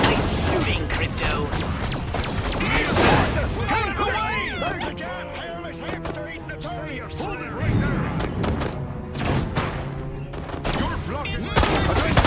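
Gunfire in the alien shooter game Destroy All Humans!, bursts of rapid shots and blasts with crashes, loud and close, mixed with game voices and effects.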